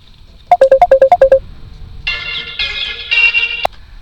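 A phone ringtone from an incoming call plays loudly and alone: a rapid run of about eight short electronic beeps, then three longer buzzing tones ending abruptly.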